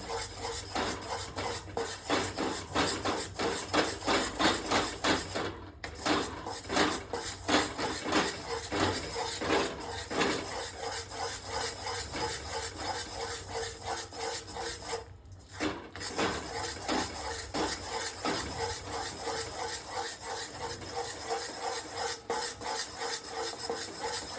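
A spoon repeatedly scraping and stirring oil and jaggery in a pan while making sesame chikki, a steady rhythmic rasping of metal on the pan, close and continuous, with two brief pauses.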